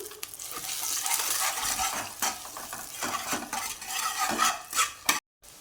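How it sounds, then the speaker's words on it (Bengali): Eggs frying in a pan with potato, onion, garlic and green chili, sizzling close by while a spatula scrapes and clinks against the pan in irregular strokes, then a brief silence. "এখানে পাস্তার জন্য আমি ডিম ভেজে নিচ্ছি"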